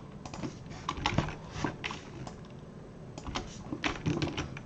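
Steady keyboard typing of code for a Unity ads setup, with bursts of key presses at an irregular rhythm, close and moderately loud, with no voice.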